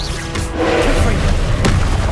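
A Confringo explosive spell is cast in Hogwarts Legacy, bursting with a loud, booming blast that rumbles on, with a second sharp impact near the end.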